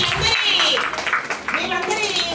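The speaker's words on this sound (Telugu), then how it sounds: "మా బిగ్ క్లాప్స్ ఇవ్వండి మా." Applause from the audience at a retirement function for a community health officer, a steady broadband patter of clapping that runs the whole way under a voice speaking over it.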